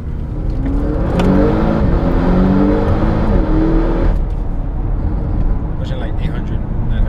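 A truck engine tuned to around 800 to 900 horsepower revs hard up through a rising pitch for a few seconds, then settles to a steady, loud, close rumble.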